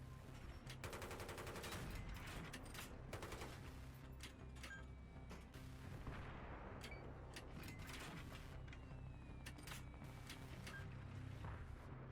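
Rapid bursts of automatic gunfire crack repeatedly through a Battlefield 3 campaign mission, fairly faint and spread across the whole stretch, with engine rumble and mechanical clatter underneath.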